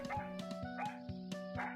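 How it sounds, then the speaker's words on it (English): Dog giving soft, breathy woofs and small yips in the video game RWBY: Summer Rose Court, several short bursts close by over steady tonal music. "The dog gives her another breathy woof."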